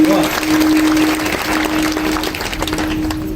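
An audience claps together during a kirtan, a steady burst of applause that slowly tapers, with a sustained low hum running underneath and a few voices mixed in.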